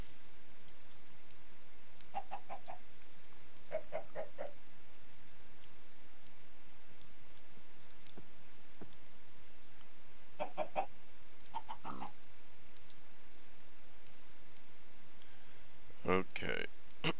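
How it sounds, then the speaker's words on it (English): Chickens in the video game Minecraft give a few short, clear clucks in separate clusters over a steady faint background hum, with one louder cluck near the end. "Come on, little chickies."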